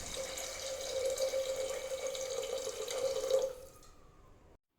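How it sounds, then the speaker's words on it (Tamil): Water streams steadily into a cooking pot for a few seconds, a continuous pouring rush that stops abruptly near the end. "வதங்கினதும் தண்ணி ஆட் பண்ணிக்கலாம்."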